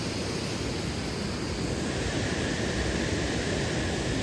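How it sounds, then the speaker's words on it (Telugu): Steady roaring rush of water pouring down a landslide-scarred slope on a mountain road toward Badrinath, a dense, continuous wash of noise with no pauses, close and loud throughout. "వాటర్ పడుతూనే ఉంది"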